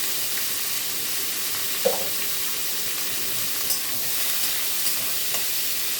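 Sliced onions fry in hot oil for beresta, a steady broadband hiss of sizzling close by, broken by a few soft stirring clinks.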